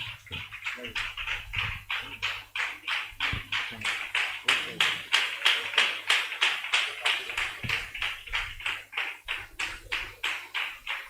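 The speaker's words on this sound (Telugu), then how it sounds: "చప్పట్లు కొడదా ఉందామండి దేవుని సేవకులు." A church congregation at a gathering in Nallajarla claps in unison, a steady rhythmic beat of many hands that carries on for the whole stretch, with a low hum underneath.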